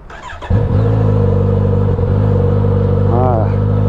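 A Kawasaki Z900RS four-cylinder motorcycle engine cranks and fires at once, then settles into a loud, steady close-up idle with a smooth low hum. A brief voice sounds over it near the end.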